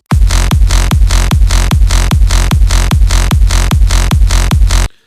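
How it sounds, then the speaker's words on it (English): A loud, distorted layered hardstyle kick drum pattern, steady four-on-the-floor hits with booming low punch and a pitched tail, repeating about a dozen times alone before stopping. "Together the kicks sound like this."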